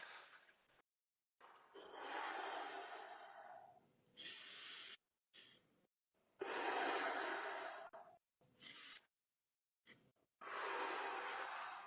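Deep breathwork inhales during an exercise routine, a series of loud, close, rushing breaths in irregular bursts separated by short silences, with no talking.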